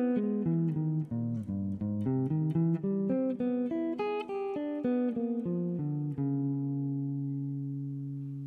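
Clean electric guitar lick running through major triads in CAGED positions, single notes stepping up and down in a steady flowing line for several seconds, ending on a sustained two-note chord that rings and fades, close and unaccompanied.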